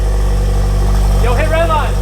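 A Nissan S15 with a VVL engine idles at about 800 RPM, a loud, steady low drone close by, while a person talks over it.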